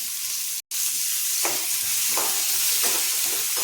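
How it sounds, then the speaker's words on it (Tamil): Finely chopped onion and green chilli frying in a pan, continuous close sizzling broken by a brief dropout and several soft scrapes of stirring at intervals, no talking. "வெங்காயம் கண்ணாடி பதம் வதங்கினா போதும்"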